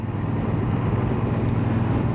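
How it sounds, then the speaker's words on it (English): A Triumph Speedmaster motorcycle engine held at about 2800 RPM, giving a steady low throbbing drone mixed with wind rush while riding, with no talking. "as you see I just revved up to 2800 RPM"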